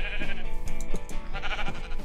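Sheep in the Minecraft video game bleat repeatedly, loud and close, in a few wavering calls over steady background game music, with no talking.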